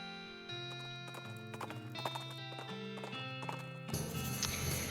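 Horse hooves clip-clop at an even walking pace on a dusty desert trail, close and clear over a soft musical backdrop, with a denser rustle of movement near the end.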